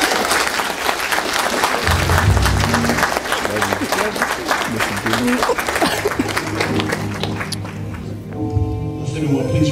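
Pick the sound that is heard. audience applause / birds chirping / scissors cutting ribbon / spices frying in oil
audience applause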